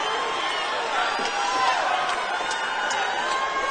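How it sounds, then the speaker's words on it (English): Boxing arena crowd at Roy Jones Jr.'s final hometown fight roars in a steady broad wash, with swells of cheering and a few sharp whoops and shouts rising out of it for a few seconds. "The crowd just cheering for Roy Jones Jr. here tonight"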